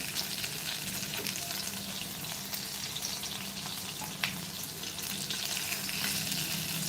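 Bombil (Bombay duck) fish frying in hot oil, a steady, dense sizzle that holds evenly throughout, with a faint occasional tick and no talk.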